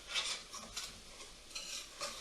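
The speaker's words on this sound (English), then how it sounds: "Just keep stirring that." Spices frying in a pan for chicken pathia, stirred with a utensil: soft, repeated scraping strokes over a quiet sizzle, close and fairly faint.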